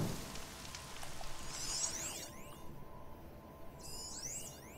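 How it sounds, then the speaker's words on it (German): Steady rain falls on surfaces in the video game Horizon Zero Dawn, a soft continuous patter with some brief game effects layered over it, and no voices. "Noch mehr Regen."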